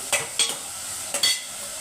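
Drumstick pieces for a mutton curry fry in oil, a soft, steady sizzle punctuated by a few brief scraping stirs of a spoon against the pan.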